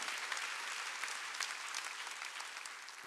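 A church congregation applauding during a Wednesday service, dense sustained clapping from many hands at a moderate distance, steady throughout and alone without talk.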